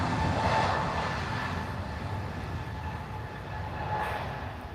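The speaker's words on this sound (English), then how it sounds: "So we have the British Airways, it's a Neo, an A321 if I'm not mistaken." A British Airways Airbus A321neo at Lisbon Airport gives a steady, loud jet roar with a faint tonal whine, heard from a distance outdoors with no voices.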